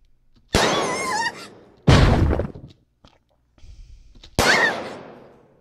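Loud, close gunshots from the Kuudere Simulator game: three separate sharp bursts, each fading off, with quiet gaps and a faint thud between them.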